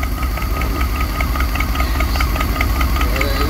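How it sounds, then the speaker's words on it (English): A 1990 Chevy G30 van engine idles steadily with a rough, uneven knocking pulse and constant low rumble, close by and continuous. "It's idling fine. A little rough still when it's in gear."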